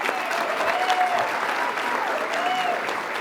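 An audience at a community diversity awards ceremony breaks into sustained applause, a dense, even wash of clapping from a large crowd lasting a few seconds.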